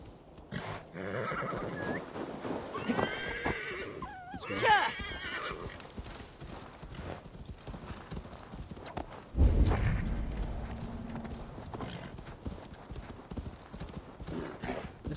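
A horse whinnies and hooves clip-clop amid busy snowy Assassin's Creed Valhalla game ambience, with a person talking over it at times.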